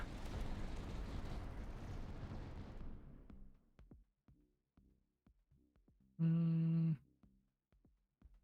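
A heavy rumbling mortar blast in the tower defense game Tower Dominion fades over about three seconds, followed by sparse small pops and a brief loud tonal electronic burst.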